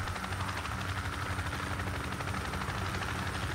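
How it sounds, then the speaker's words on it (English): A helicopter in the military shooter Project Reality drones steadily with a constant rotor thrum and engine roar, close and loud throughout, with no talk over it. "Hey, I'm gonna leave Mebel in the chopper with you."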